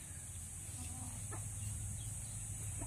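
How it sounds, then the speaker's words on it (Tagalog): Free-range native chickens cluck softly at a farm, a few brief calls rising over a steady low background hum, moderately distant and faint. "napakaraming mga manok na nandito"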